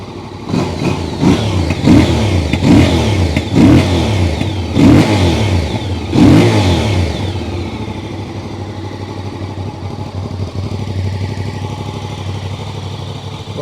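A warm Voge R625 motorcycle engine is blipped about six times in quick succession. The loud, close revs then settle into a lower, steady idle for the last several seconds, with no voices.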